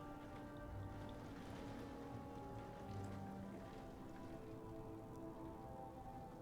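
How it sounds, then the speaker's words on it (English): Heavy rain beats steadily against a window, a constant dense hiss of drops with no break and no voices, quiet and close. "Can you hear the rain?"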